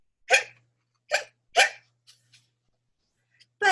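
A voice imitates a skeleton's hiccups in a children's story reading: three sharp, evenly spaced hiccup sounds, then faint small ones and another at the end, close and loud against silence.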